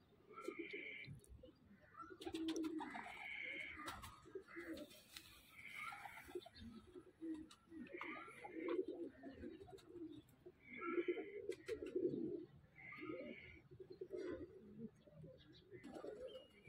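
Golden pigeon cooing repeatedly in soft, rhythmic phrases, close by, with speech-like murmurs and faint bird chirps in the background throughout.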